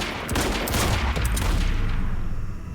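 Rifle fire from the video game Quantum Break bursts out in loud, rapid volleys of shots lasting nearly three seconds, with no one talking over it.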